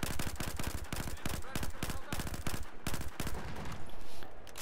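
Rapid automatic gunfire in the video game Battlefield 4, a loud continuous rattle of closely spaced shots lasting several seconds with brief gaps between bursts.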